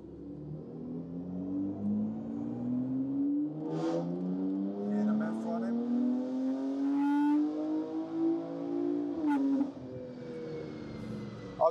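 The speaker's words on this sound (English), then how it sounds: "let's get this on one more dyno run" BMW G80 M3 with hybrid turbos and an MHD+ tune on a dyno, its engine droning and climbing steadily in pitch through a long pull before a quick cut, loud and close with brief voices.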